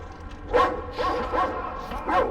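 Dog in the video game Metro Exodus barking about four times in quick succession over roughly two seconds, loud and close, with a rough, yappy tone.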